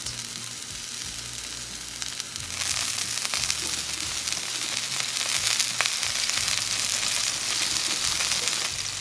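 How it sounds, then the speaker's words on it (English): Asparagus searing in a very hot pan gives a loud, steady sizzle that jumps sharply in intensity a couple of seconds in and then holds as a dense, crackling fry with no talking. "we're gonna sear our asparagus"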